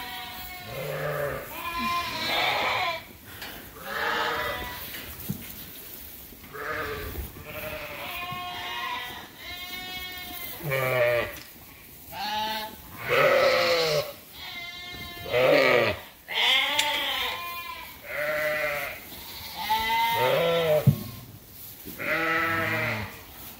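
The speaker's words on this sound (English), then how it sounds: "But you can see we got a lot of lambs in here now." Lambs and ewes bleat in a creep pen on a sheep farm, a loud chorus of overlapping calls from several animals close by, nearly continuous and alone without talk.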